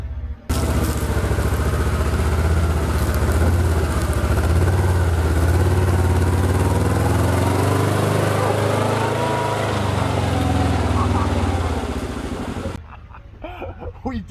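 A Kawasaki Mule Pro FX utility vehicle's engine runs steadily on a wooded trail, a loud continuous rumble with clattering over rough ground that cuts off near the end.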